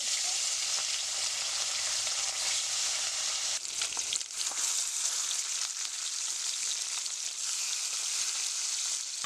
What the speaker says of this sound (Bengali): মাছ ভাজার জন্য তেলটা আমার গরম হয়ে গেছে এবার আমি আস্তে আস্তে মাছগুলো